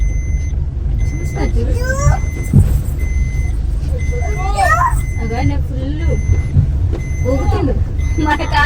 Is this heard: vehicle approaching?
yes